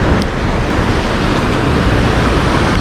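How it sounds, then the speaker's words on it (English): Ocean surf washing back down a beach on a Central American shore at sunrise, a steady close broadband roar of water with no gaps, partly buffeted by wind on the microphone. "There's some nice backwash here."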